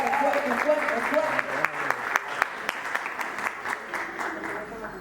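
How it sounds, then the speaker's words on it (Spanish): Church congregation applause rises as a crowd claps steadily, with individual claps audible under a voice speaking over it. "Dale un fuerte aplauso al Señor. Dáselo fuerte."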